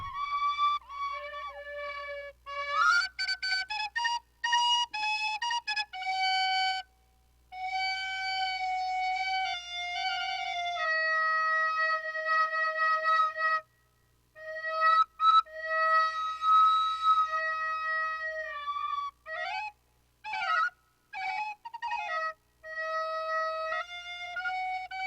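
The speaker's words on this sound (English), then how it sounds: "So now I've got the recorder, and the tube is taped to the end of the recorder." A recorder with a resonance tube taped to its end, playing a sequence of clear sustained whistle-like notes with strong harmonics, separated by short gaps and quick note changes, alone and close.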